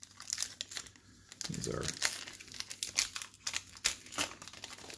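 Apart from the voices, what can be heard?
crinkling wrapper of a baseball card pack being opened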